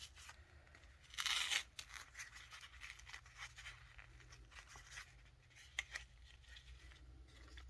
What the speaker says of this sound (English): I'm just going to cut the cup away